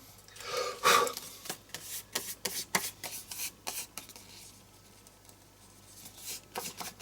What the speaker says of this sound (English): if you just rub gently with the spirit glue,